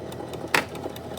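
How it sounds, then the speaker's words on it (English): A sewing machine back-stitching a sweatshirt, a soft steady mechanical whir with faint rhythmic ticks and one brief sharper clack in the middle, heard close and alone. "Now you get to see the fancy stitch. still gonna back stitch."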